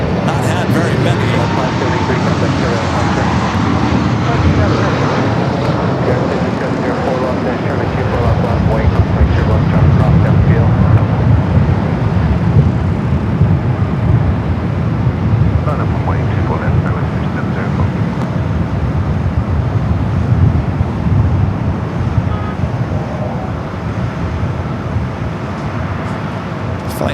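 An airliner bound for JFK takes off down runway 24 Left at Los Angeles International Airport, its engines a loud, sustained roar that swells and holds throughout, with a voice talking over it.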